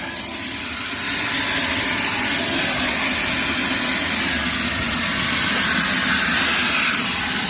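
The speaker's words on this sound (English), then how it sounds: "We got a turbo blower." A loud, steady rushing roar of forced air from a turbo blower with a low motor drone underneath, continuous and close for several seconds, blowing out the interior of a Porsche 944 under restoration.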